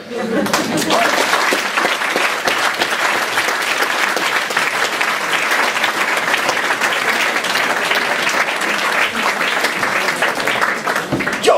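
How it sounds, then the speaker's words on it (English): Audience at a Bettakultcha Leeds talk night gives loud, dense, continuous applause from a large crowd, steady throughout with a few whoops and voices mixed in. "I think that deserved a second round of applause"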